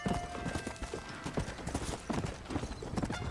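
Galloping horse hooves in the video game Red Dead Redemption, a steady rapid clip-clop rhythm that runs throughout at moderate loudness over a faint game soundscape, with no talk.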